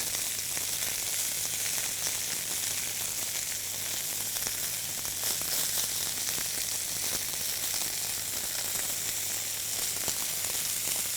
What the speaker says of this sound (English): So the meat has now started to colour and brown. I've got a good noise in the pan.